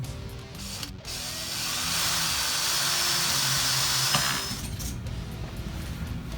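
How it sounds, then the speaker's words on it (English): A power drill bores through a wooden electric guitar neck, giving a sustained, loud grinding whir that rises after a brief pause and then tapers off. "I'm going to drill all the way through the neck and bring the bolts up from the back"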